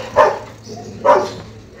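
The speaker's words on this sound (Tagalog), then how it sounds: "Ang laki ng aso." Two sharp barks from a large dog, about a second apart, fairly close, with quiet background between them.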